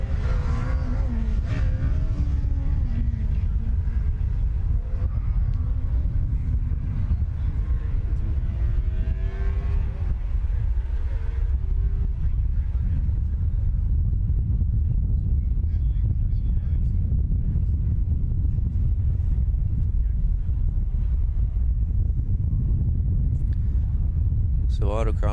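A Formula SAE race car starting an autocross run on the back stretch of a NASCAR track, its engine rumbling and revving with rising pitch early on, carried under steady wind noise and background commentary.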